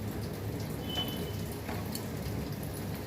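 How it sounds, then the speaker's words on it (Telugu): Lukewarm water pours steadily into a pot of country chicken curry, a continuous close rushing splash holding an even level throughout the short stretch, with no voices. "వేడి నీళ్ళు చేసుకొని పోస్తున్నా."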